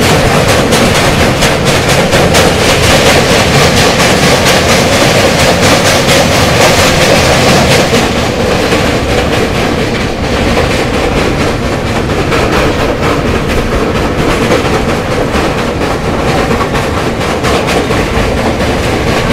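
Basava Express with new LHB coaches runs from Mysuru toward Bagalkot, a loud continuous rumble and rattle of wheels on track heard from inside, with steady rhythmic clatter and no speech.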